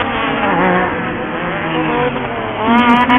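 Off-road race trucks roar across a drag race finish at a Lucas Oil Off Road regional event at Glen Helen, their loud, layered engine whine rising and shifting over about three seconds as they pass close by.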